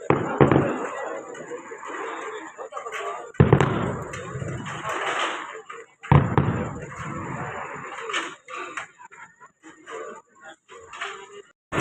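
Several sharp firecracker bangs go off at intervals, each followed by crackling and fading noise, with faint voices around them.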